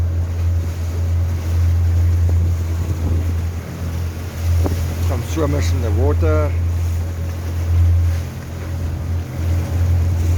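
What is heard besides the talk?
boat at sea in strong northeasterly wind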